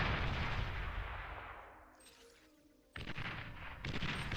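Bombing runs in the strategy game Beyond All Reason, a rumbling explosion that fades out, then a fresh burst of booming blasts and gunfire-like crackle returning loudly near the end.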